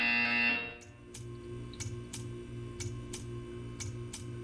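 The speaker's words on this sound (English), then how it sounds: "You will hear a buzzer." A repeating buzzer from the Portal 2 video game test chamber: a series of short, evenly spaced electronic buzzes, about one every half second, following a brief louder tone at the start, with no talk.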